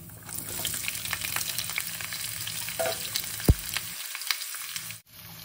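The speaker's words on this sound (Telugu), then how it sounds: "ఇప్పుడు తరిగి పెట్టుకున్న ఆనియన్స్ వేసుకుందామండి" Chopped onions fry in hot oil with chana dal and cashews for masala dosa filling, giving a steady close crackling sizzle with stirring scrapes and a sharp knock, then the frying drops away near the end.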